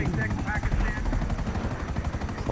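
A video-game helicopter flies with a fast, continuous rotor chop and a loud, close engine roar that pulses steadily throughout.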